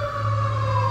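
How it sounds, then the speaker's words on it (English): A loud fire engine siren wails steadily nearby, a sustained high-pitched tone with a low rumble underneath and no voices. "there's a fire engine right there."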